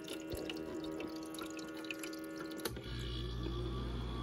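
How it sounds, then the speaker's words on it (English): Water trickles and drips inside a Magic Chef portable ice maker that is not making ice, a faint steady splashing over a machine hum, joined partway through by a louder low motor drone. "There's a lot of water coming down here."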